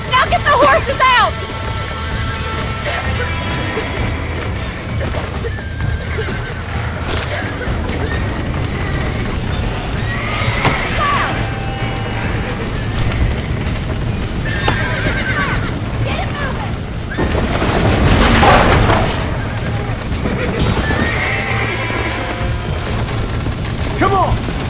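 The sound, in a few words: horses neighing and galloping, from a video game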